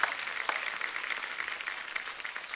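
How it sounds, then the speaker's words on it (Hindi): A studio audience at The Kapil Sharma comedy show claps for arriving guests, dense, steady applause filling the room at close range without any talking. "जोरदार तालियां आशुतोष सर के लिए और रेणुका मैम के लिए"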